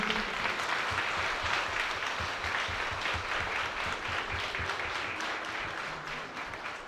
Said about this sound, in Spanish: Damos un fuerte aplauso a San Antonio.